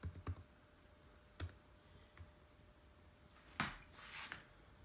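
Keys tapped on a Toshiba laptop keyboard in a few sparse, distinct clicks spread across a quiet room, close and fairly soft, with no voices.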